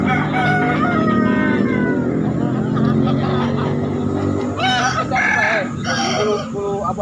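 A local rooster crows at Pasar Daya, a live chicken market in Makassar, its calls rising over crowded market noise and clucking, with people bargaining nearby throughout.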